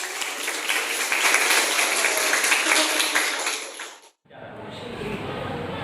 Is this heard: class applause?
yes